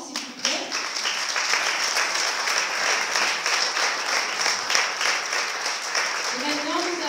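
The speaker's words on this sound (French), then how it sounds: "Une main d'applaudissement pour tout le monde, s'il vous plaît." Conference audience applauding a panel of speakers at an evening event, a sustained, even wash of many hands clapping at moderate distance, with a voice briefly heard over it near the end.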